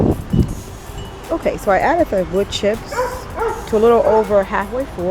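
A dog barks and yips repeatedly close by in a garden while someone talks over it, describing filling a large planting container with wood chips.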